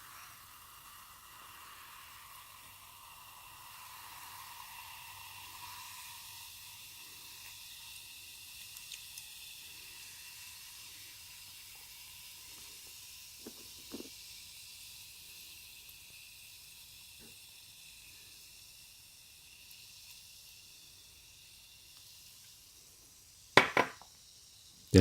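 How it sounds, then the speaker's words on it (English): Baking soda and lime mixed with water for a homemade teeth-whitening paste fizz with a faint, steady hiss, broken by a few soft clicks and a louder clatter near the end. "You're gonna hear that sizzling sound."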